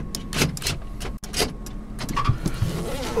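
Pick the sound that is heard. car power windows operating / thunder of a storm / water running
car power windows operating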